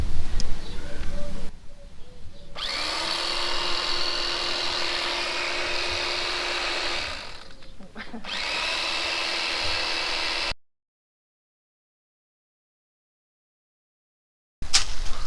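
A carving knife saws through an IKEA foam mattress in long, continuous rasping strokes, loud and close, with a short pause in the middle before a sudden cut to silence.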